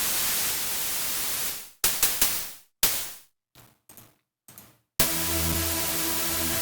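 Broadband static hiss from a synthesizer's plain noise oscillator in a synthpop/EBM production, heard as steady white noise that is gated into a run of short bursts of varying length with silent gaps, then returns as a sustained wash.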